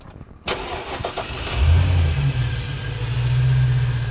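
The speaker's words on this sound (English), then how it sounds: "Yeah, it squeaks a bit. One of the pulleys is out of alignment." A car engine cranks and starts, then settles into a steady low idle with a faint recurring squeak from a misaligned pulley, recorded close up with no talking.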